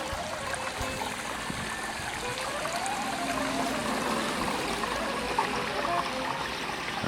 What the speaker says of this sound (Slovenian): Teči vodica.